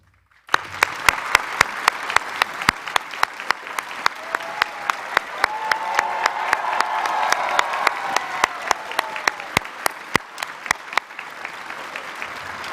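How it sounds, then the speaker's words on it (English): An audience at a George Brown College convocation applauds the platform party, a steady wash of many hands clapping with sharp individual claps standing out, sustained loudly throughout. "you made up for the applause on that one"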